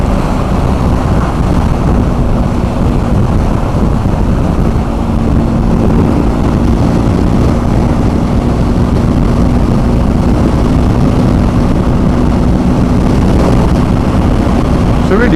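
A BMW R1250 GS Adventure TE Triple Black Edition motorcycle engine runs high in the revs through quick-shifted gear changes, a loud steady drone with wind roar on the road, and a rider's voice talking over it.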